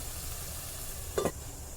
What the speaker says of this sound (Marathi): दोन ते तीन मिनटं माकली तेलामध्ये परतून घ्यायची आहे